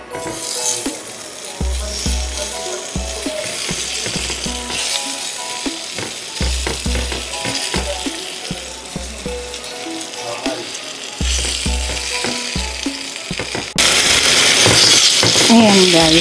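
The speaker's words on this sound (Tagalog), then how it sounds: "start na natin i-grill yung ating ribeye steak" Ribeye steak sizzling in a preheated enamel cast iron pan with a little olive oil, a steady loud frying hiss with crackle and intermittent low scraping rumbles, growing louder near the end.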